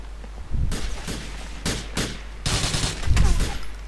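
Enemy gunfire in Grand Theft Auto IV: several rapid bursts of shots in quick succession, loud and close, separated by brief gaps, with no talking.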